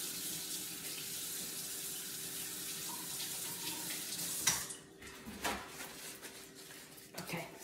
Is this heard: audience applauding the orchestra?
no